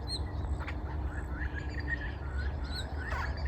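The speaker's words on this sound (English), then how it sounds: "King parrots are having breakfast this morning." Several king parrots, male and female, give short, scratchy chirping calls at intervals while feeding on sunflowers in a garden, moderately close, over a low steady outdoor rumble.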